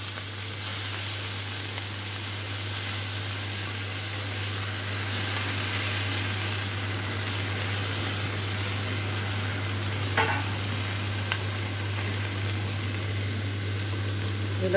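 Green chilies fry in hot oil while making beto shak bhaja, a steady close sizzle with a low constant hum underneath and a brief sharper crackle midway.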